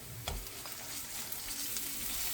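Butter sizzles in a hot pan with browned garlic, a steady close crackle with a few sharper pops near the start.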